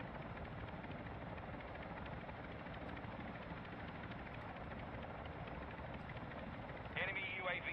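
A helicopter in the Call of Duty DMZ mode keeps up a muffled, steady rotor drone under a voice, with a sharp electronic burst near the end.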